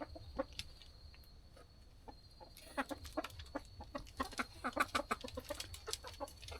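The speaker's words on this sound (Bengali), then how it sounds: "এই যে দেখেন গলাশিলা মুরগি" Naked-neck desi hens kept in a bamboo-built home farm shed, clucking in short repeated bursts that grow busier and louder partway through, with no talking.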